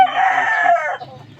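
A loud, close crow from a native gamecock, one sustained call that trails off quickly.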